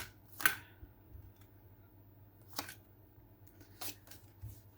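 Tarot cards are shuffled in several quick, soft riffling bursts separated by quiet pauses, close and faint, with no talking.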